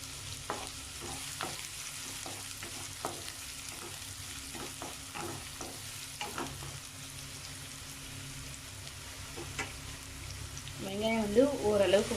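Finely chopped onion fries in hot oil with popped mustard seeds, a soft sizzle broken by clicks and scrapes of a spoon, fairly quiet, with a brief voice near the end.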